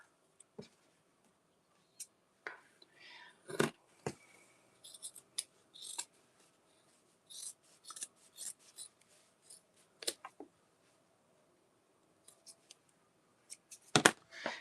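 Scissors snip through fabric while a cosmetic bag is being sewn: scattered short, crisp cuts in uneven clusters, close and fairly quiet, with a sharper snip near the end.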